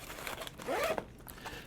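A zipper being pulled closed on the pouch of a USPSA range bag, one short rasping zip up close, heard alone.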